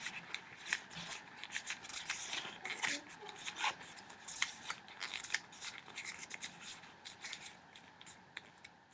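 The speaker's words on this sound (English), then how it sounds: "now you're going to do like an accordion fold. So you're just going to accordion fold it" Paper is accordion-folded for a sparkly clothespin snowflake ornament, giving close, crisp crinkles and quick creasing rustles that repeat steadily throughout.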